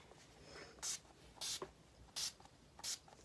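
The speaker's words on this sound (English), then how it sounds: "we're going to go in with the Urban Decay All Nighter Setting Spray" Four quick, short spritzes of Urban Decay All Nighter setting spray hiss at close range onto a face, evenly spaced against a quiet background.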